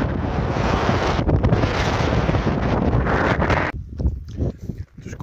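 Strong wind buffets the microphone in a loud, roaring rush, then drops into gusty bursts and brief lulls near the end.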